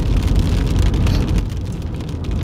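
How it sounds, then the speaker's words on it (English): Steady, heavy rain pours down in Madeira in a dense, continuous hiss and patter, loud and close, with no voices. "God, you're hearing that rain."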